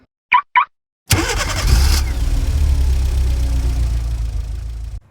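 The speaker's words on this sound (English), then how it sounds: "All right, guys, cold start on the 458." Two short electronic chirps, then a Ferrari 458 engine cold starts with a sudden loud crank and roar that flares for about a second, then settles into a high, steady rumbling idle close by, with no talking.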